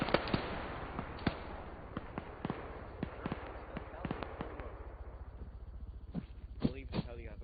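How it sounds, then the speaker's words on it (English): Scattered gunshots crack through a battle in a video game, sharp isolated reports at irregular intervals, some near and some distant, under a man's radio-style talk throughout. "Shots coming from the south now"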